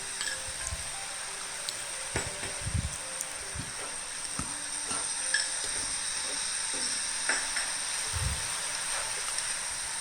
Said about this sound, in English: So stir fry until the noodles is almost dry, glossy and sticky.